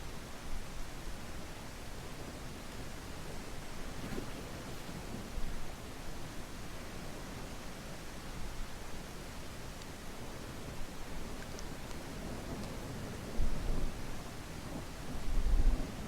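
Rain falls steadily in the video game Day of Dragons as a continuous hiss, with low thunder rumbles swelling near the end.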